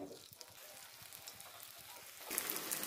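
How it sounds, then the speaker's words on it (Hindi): Spinach vadi sizzles in hot oil in a pan, a soft continuous crackle and hiss that swells louder near the end, with no talking. "तेल हमारा गर्म हो चुका है, अब हम इसमें अपनी पालक वड़ी पकाते हैं।"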